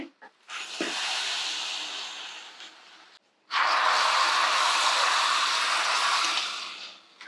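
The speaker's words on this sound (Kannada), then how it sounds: "ಒಗ್ಗರಣೆ ಸೇರಿಸ್ತಾ ಇದ್ದೀನಿ" Hot tempering (oggarane) poured into drumstick leaf (nugge soppu) tovve hisses loudly in two sustained sizzling bursts, each several seconds long, separated by a brief near-silent pause.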